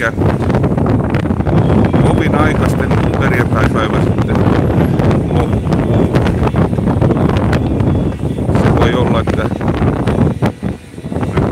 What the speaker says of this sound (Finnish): nyt tuulee niin kovasti, että yritän saada tätä mikrofonia vähän suojattua